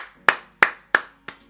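Hands clap four times in a slow, even rhythm, each clap sharp, close and alone, with a little ring after it.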